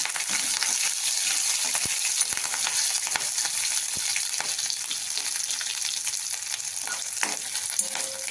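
Ginger, green chilli and coriander paste frying in a pan, a steady loud sizzle running throughout with a few faint clicks of a spoon against the pan.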